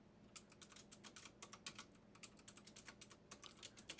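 Rapid, irregular clatter of computer keys being typed, close and fairly quiet, with uneven bursts of keystrokes and no talking.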